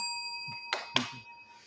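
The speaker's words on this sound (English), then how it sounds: "you got a bell and a hand clap on that one" A bright bell ring with sustained tones and two sharp claps, one right after the other, quiet and without voices.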